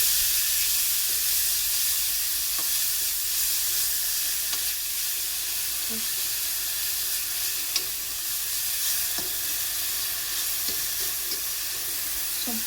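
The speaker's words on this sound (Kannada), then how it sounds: "ಸೊಪ್ಪು ಚೆನ್ನಾಗಿ ಇದರಲ್ಲಿ ಫ್ರೈ ಆಗಬೇಕು. ಅಲ್ಲಿವರೆಗೂ ಇದನ್ನು ಚೆನ್ನಾಗಿ ಮಿಕ್ಸ್ ಮಾಡ್ಕೊಳ್ಳಿ." Dill leaves fry in a pan with chilies, giving a constant soft hiss and sizzle and a few faint scrapes from stirring throughout, with no talking.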